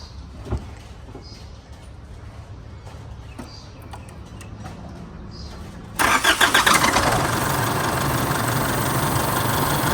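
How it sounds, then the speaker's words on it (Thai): A 2007 Chevrolet pickup truck engine cranks and catches about two thirds of the way in, then settles into a steady, close idle after a quiet stretch with faint background noise. "สตาร์ทดูเครื่องเลย"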